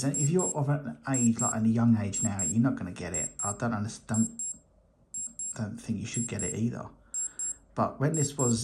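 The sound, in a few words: 1983 Casio digital watch alarm beeping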